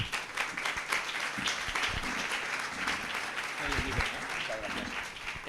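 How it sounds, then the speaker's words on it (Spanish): Audience applause at a travel talk in Cuenca, a steady dense clapping that fills the room at an even level throughout, without a break. "Un aplauso, por favor."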